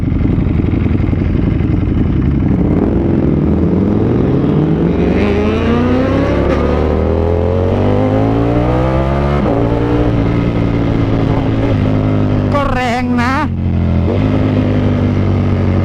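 A Ducati V4 race motorcycle with an SC-Project exhaust revs hard and loud, its engine note climbing and falling through several sweeping pulls, with a sharp crackling burst near the end; no voices.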